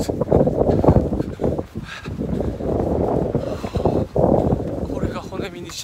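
Wind gusting against the microphone on an outdoor run, a loud, rough, buffeting rumble that rises and falls under a person talking.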